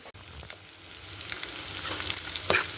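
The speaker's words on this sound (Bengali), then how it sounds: "আমি এখন মাছটা ভাজি" Fish fries in oil on a stove over low gas, a continuous soft sizzle with a few light crackles and pops rising slightly toward the end, close by and unaccompanied by talk.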